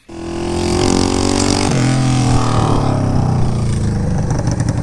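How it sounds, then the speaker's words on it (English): A Honda CB500 motorcycle engine roars steadily as it is ridden until it breaks, loud and close, with a shift in pitch partway through and rattling mechanical clatter. "I just rode the bike around until it broke"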